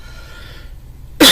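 A single sharp cough from a person recovering from COVID bursts out loud and close at the very end, after a second of near-quiet room tone.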